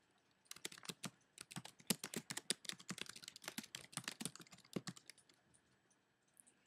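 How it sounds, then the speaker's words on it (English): Typing on a computer keyboard while entering text into a SmartArt graphic: a steady run of close, crisp key clicks in quick irregular bursts, alone with no speech, trailing off near the end. "I can start typing directly into the boxes."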